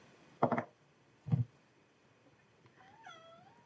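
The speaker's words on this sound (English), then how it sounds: "my cat can hear the dogs getting fed, and that was him crying out for food." A male cat meows for food in a short indoor recording, giving two loud, close cries about a second apart. Fainter, higher wavering meows follow toward the end.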